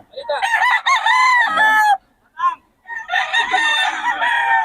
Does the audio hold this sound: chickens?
yes